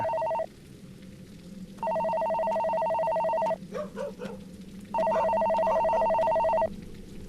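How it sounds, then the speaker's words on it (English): A phone rings in the video game The Alley, giving two long electronic ring bursts separated by a pause, clear over a low ambient hum, with a few brief sounds in the gap. "Move toward the sound of the ringing phone."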